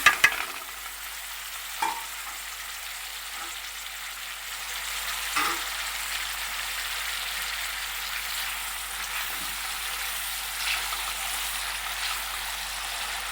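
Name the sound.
onions frying in ghee with spices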